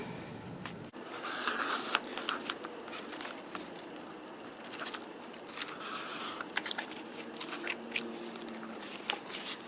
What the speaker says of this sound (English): I'm going to use my X-Acto knife to cut through this group of pages